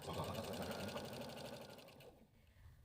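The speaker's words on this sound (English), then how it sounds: "then I'm going to stitch around all those edges" A sewing machine runs in a steady rapid rhythm while stitching the backing onto a pillow around its edges, a faint close mechanical chatter that slows and stops near the end.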